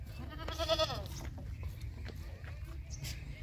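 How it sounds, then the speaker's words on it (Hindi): A goat gives one clear, wavering bleat at close range during milking, followed by soft background rustling and low farmyard noise. "बकरी का दूध कैसे निकाला जाए"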